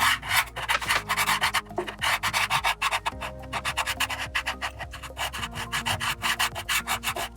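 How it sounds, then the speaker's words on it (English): Dry chalk pastel is rubbed and smudged on paper by hand, a close, dry scratchy sound in quick, steady back-and-forth strokes with no voices. "Now you can smudge it. Give it a nice rub."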